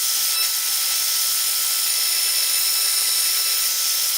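A power drill fitted with a 1.5 inch Forstner bit bores into wood while a coffee scoop is being made. It gives a steady, loud, close whirring hiss that runs unbroken throughout, with no talk.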